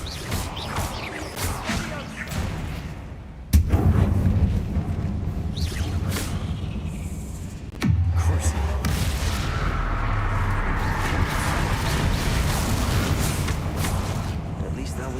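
Two loud Bombarda spell explosions in Hogwarts Legacy, each a sudden booming crash with rumbling debris and whooshing after, set over a dense game soundscape with a voice speaking briefly.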